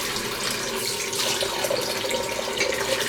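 Water runs steadily from a tap into a sink before a straight-razor shave, a continuous close hiss and splash with no talk.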